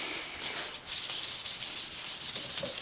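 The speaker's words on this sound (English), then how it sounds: "He's rubbing some wood." Wood being hand-sanded with 800 grit sandpaper during a vintage VS6 fix-up, a steady close rasping rub in repeated back-and-forth strokes with no voices.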